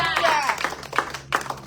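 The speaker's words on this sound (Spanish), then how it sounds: "¿Cuánto le damos un aplauso a Dios por eso?" A church congregation claps during a Spanish-language service, the applause mixed in beneath a voice as he speaks and short bursts of clapping rising through the talk.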